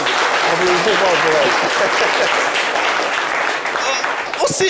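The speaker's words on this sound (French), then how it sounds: "Applaudissez-la bien fort" An audience at a French-language variety show applauds a young flute player, a sustained round of clapping with a voice speaking over it and a brief sharper burst near the end.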